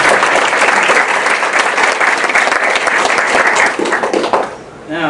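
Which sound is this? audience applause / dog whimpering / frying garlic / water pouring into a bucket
audience applause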